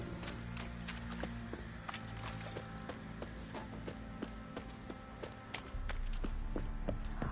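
Horse hooves clip-clop steadily in The Witcher 3: Wild Hunt, sharp clicks in a loose walking rhythm over a low, even game ambience.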